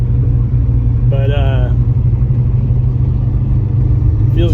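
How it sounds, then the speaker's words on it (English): Ford Fox Body Mustang being driven, its engine a steady low rumble heard from inside the car throughout, with someone speaking briefly over it. "feels good to be driving again"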